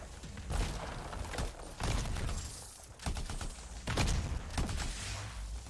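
Weapon fire in Anthem: loud, dense bursts of automatic shots in repeated volleys with booming impacts and thuds, keeping up steadily across the clip.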